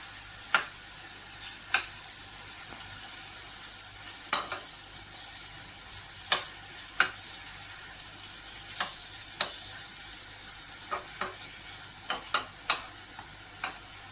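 Banana pieces fry in honey and ghee for a Navaratri honey banana offering, giving a constant bright sizzle broken by scattered sharp pops and crackles at irregular intervals.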